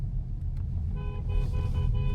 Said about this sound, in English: There's a car coming the other way.